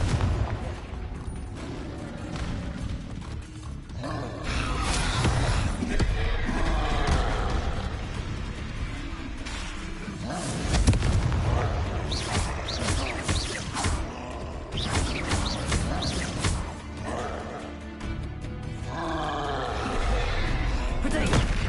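Blasting-spell explosions in the Hogwarts Legacy video game, recurring booms and crashes through a dense, continuous wash of combat noise, with voices heard over the chaos.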